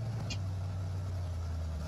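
A restored Pontiac Firebird Trans Am engine runs steadily at about 1500 rpm while being run in, giving a low, even hum close by with no talk over it.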